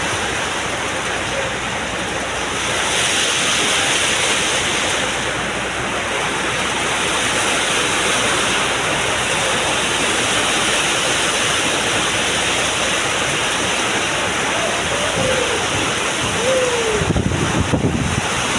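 Heavy rain pours in a dense, constant roar with strong wind gusting over it, buffeting the microphone; a brief burst near the end.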